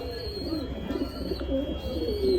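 Red Lahore pigeons coo softly and repeatedly, low rolling calls close by, with a faint higher chirp in the background.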